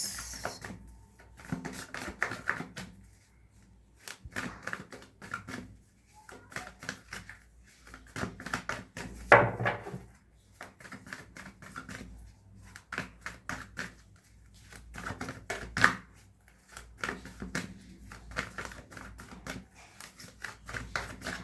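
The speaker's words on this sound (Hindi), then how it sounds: "ओके, हमने काफी शफल कर लिया है।" Tarot cards being shuffled by hand, repeated bursts of riffling and slapping card sounds separated by short pauses, close and fairly loud across the whole stretch.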